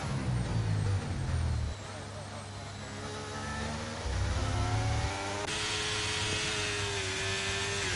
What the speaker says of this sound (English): I think Amir's just revving it too high in too much higher gears